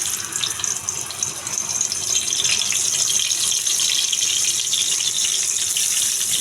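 Tilapia fish dropped into hot oil in a pan, a loud continuous hissing sizzle that holds steady without pause, close up and alone with no speech.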